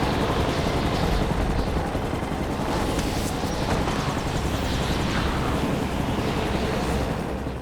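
A loud, continuous helicopter roar fills the scene, dense and rumbling, with chaotic crackling bursts layered over the steady engine noise.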